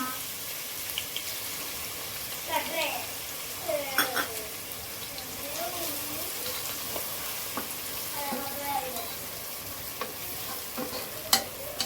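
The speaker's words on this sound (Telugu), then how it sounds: "పొయ్యి మీద గిన్నె పెట్టి నూనె పోసుకున్నామండి అందులో ఉల్లిపాయలు వేసి బాగా వేయించుకుందాం" Onions sizzle in oil in a pot on the stove for a prawn and taro curry, with a constant close frying hiss, stirring scrapes and faint voices in the background.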